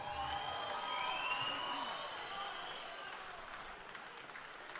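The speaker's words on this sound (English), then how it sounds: "huge round of applause" An indoor crowd at a middleweight wrestling championship final applauds, swelling early and then tapering off into scattered claps and murmurs, moderately distant.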